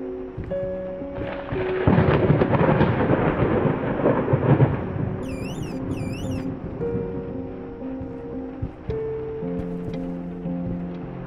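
Thunder rolls and rumbles through a storm in the horror video game Layers of Fear, swelling loudly after a quiet start and then fading into a low, lingering rumble with faint rain, while brief whistling tones appear midway.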